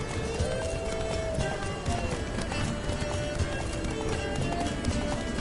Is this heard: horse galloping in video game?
yes